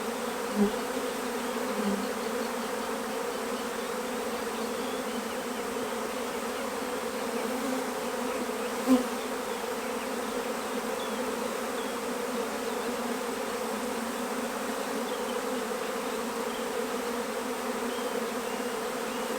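Honey bees buzzing at a hive during a strong nectar flow, a dense continuous drone of many insects at moderate volume with no voices.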